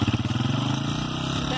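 A four-stroke motorcycle engine runs in neutral at a high, steady idle, its close, even pulsing carrying on without a break.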